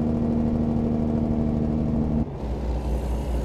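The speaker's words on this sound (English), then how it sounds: "So now we're going to hit the engine brake" A Kenworth K100E truck in American Truck Simulator runs with a steady mid-pitched engine drone, then abruptly shifts into a deeper, rougher engine-brake rumble partway through, heard alone without speech.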